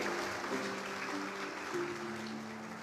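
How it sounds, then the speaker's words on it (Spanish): Church congregation applauding during a Spanish-language service, a steady wash of clapping heard at moderate distance, with sustained tones of music or voices running underneath. "Vamos a dar un aplauso a nuestro Padre."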